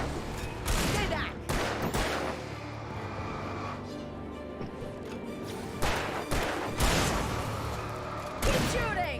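Gunfire in the video game Alan Wake Remastered, several sharp, loud shots in irregular bursts over a dark ambient game background, with a few voices calling out between them.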